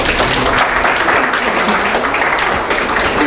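Audience welcoming a guest speaker at a forum with loud, sustained applause, dense and even clapping from a large crowd that holds steady for several seconds.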